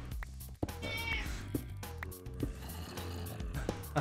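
A cat meows repeatedly and close by, several drawn-out plaintive cries, some with a snoring or snorting quality, over quiet background game sounds, with no speech.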